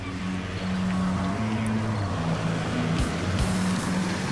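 A Dodge Hellcat SRT car drives past with a deep, droning engine rumble that rises and shifts pitch, fairly close and loud throughout.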